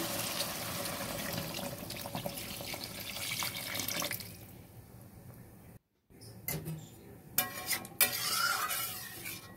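Water splashes into a pan of sautéed masala and potatoes in a home kitchen, hissing and bubbling amid stirring clatter, with a brief silent gap before fresh splashes and sizzles resume.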